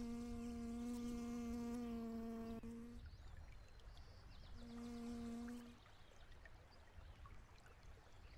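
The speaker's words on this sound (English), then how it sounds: "Why are these bees here?" Bees buzzing in the survival farming game Heat Homestead: a steady, tonal insect drone that cuts out, returns briefly, then fades, heard over faint background noise.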